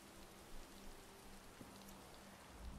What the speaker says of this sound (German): Obwohl es regnet, oder was?